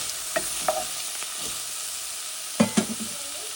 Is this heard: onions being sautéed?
yes